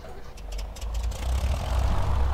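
A Cessna 172 engine in the X-Plane 10 flight simulator slowly spins up, a low rumbling drone that builds gradually in loudness over a couple of seconds, with faint clicks early on.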